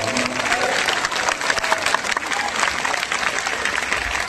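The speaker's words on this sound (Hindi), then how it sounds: "जोरदार ताली बजा करके" Loud, sustained applause from a large audience at a live religious darbar gathering, dense and continuous throughout with a faint crowd murmur beneath.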